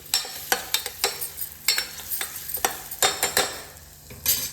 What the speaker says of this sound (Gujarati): હવે છે ને ટમેટા નાખી દીધા